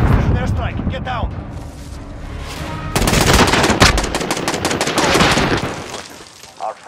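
Call of Duty Mobile battle: dense machine-gun bursts and gunshots build into a heavy, sustained barrage of airstrike explosions, loud throughout, with shouted game voices mixed in.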